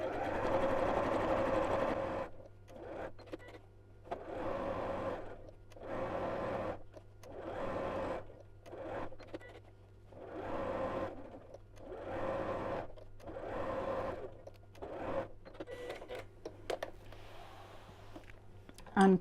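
A sewing machine stitches quilt-as-you-go reversible quilt blocks in steady whirring bursts, starting and stopping in regular runs about a seam's length each, with quiet gaps between and soft background tones.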